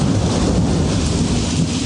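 Loud, steady downpour with a deep rumbling thunder roll, a dense wash of rain and low booming filling the short stretch with no voices.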